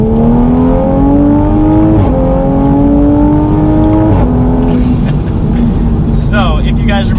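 Custom-tuned Toyota Supra with 450 wheel horsepower and 560 pound-feet of torque accelerating hard in a straight line, a loud, close engine roar that climbs in pitch and drops at two quick gear shifts.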